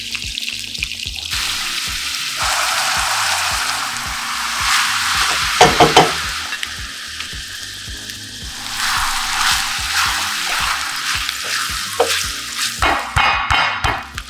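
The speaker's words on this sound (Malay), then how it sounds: "Kita masukkan daging untuk masakkan dia dan juga untuk mendapat sedikit color." Beef frying in a wok, steady sizzling throughout, with occasional scraping and stirring clatter from a utensil, close and fairly loud.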